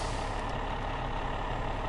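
The Monstrosity truck on giant tires driving in SnowRunner, a steady, loud, close engine drone that holds unchanged throughout without any talk.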